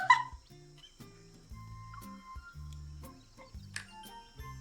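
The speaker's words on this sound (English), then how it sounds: "The monkey in the tree lets out a ear-splitting, bone-rattling howl that nearly erupts our eardrums." A howler monkey in the video game Love and Deepspace gives a series of short, low, guttural calls with a rough, rhythmic pulse and occasional sharper cries, fairly quiet overall.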